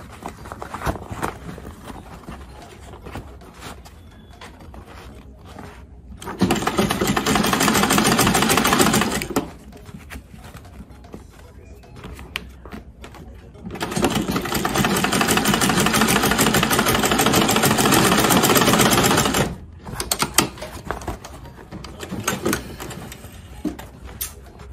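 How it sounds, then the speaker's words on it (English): A sewing machine stitches the brim of an Ankara fabric cap in two sustained whirring runs, the second longer, separated by quieter pauses with light handling sounds. "So sew the other half of the brim."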